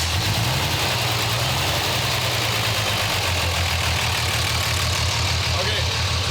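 A 24-valve Cummins common-rail diesel idles roughly on five cylinders, a loud, close, uneven low chug running steadily throughout, with talk over it.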